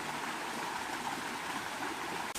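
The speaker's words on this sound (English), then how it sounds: "I did not know there was a waterfall on this trail." Waterfall along a hiking trail, a steady, full rush of falling water filling the whole clip at close range, continuous and even with no talk.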